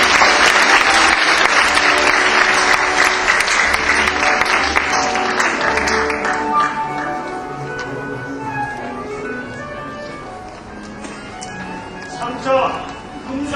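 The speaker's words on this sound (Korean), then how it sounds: "모두 큰 박수로 맞이해 주시기 바랍니다." Sustained loud applause from an audience at a university debate competition awards ceremony as gold prize winners come onstage, fading gradually over about fourteen seconds with a few voices and cheers mixed in.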